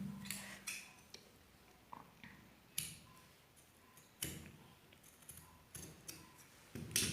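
Scissors snip through fabric while an umbrella gown is cut out, giving a series of sharp, close clicks and crisp slicing strokes spaced irregularly, each blade closing distinctly against a quiet room.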